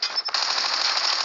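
Rapid automatic gunfire from a weapon in the video game Call of Duty, a dense, continuous burst of shots heard up close and alone, with only a brief break near the start.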